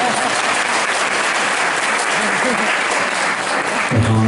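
Audience applause at a 2017 Hindi spiritual discourse by Acharya Vidyasagar, steady dense clapping filling the whole stretch, with a voice and a low hum rising near the end.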